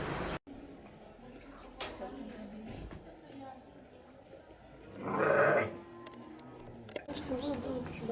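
A sheep bleats loudly once in the middle, with faint livestock noise and people talking throughout the background.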